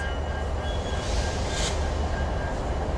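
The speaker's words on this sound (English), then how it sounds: "we have an eastbound Z Intermodal train that just left Hobart not too long ago, so it's about to pass me right now on Main 3" An eastbound Z intermodal freight train rolls past on the main line at Commerce with a steady, loud rumble of wheels on rails and a brief faint squeal.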